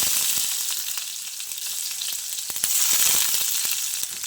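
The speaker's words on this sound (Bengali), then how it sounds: "তেল ভালো করে গরম করে নিয়ে এবার আমি এর মধ্যে দিয়ে দিচ্ছি একটা কুচনো পেঁয়াজ" Chopped onion sizzles in two spoonfuls of hot white oil, a loud, steady close-up frying hiss with crackling pops throughout.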